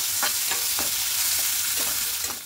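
Potatoes for a vegetarian aloo dum fry lightly in hot ghee, a loud close sizzle broken by regular scraping strokes of a spoon stirring the pan about twice a second.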